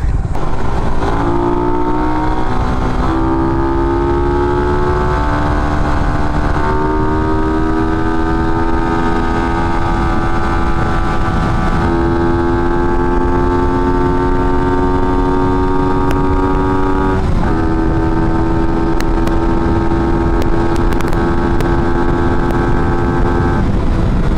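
A Suzuki Raider 150 FI motorcycle rides steadily on a road in Angeles City, Pampanga, its engine note holding a loud, continuous drone with gear shifts and wind noise running throughout.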